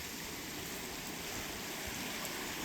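Snowmelt stream rushing across a mountain trail on Table Mountain near North Bonneville, a steady close broadband roar of flowing water without pause.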